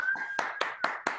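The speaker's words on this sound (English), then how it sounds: "give Laurel a round of applause" A few distinct, evenly spaced hand claps ring out close and dry for Laurel, about five sharp claps in quick succession with a faint tone running underneath.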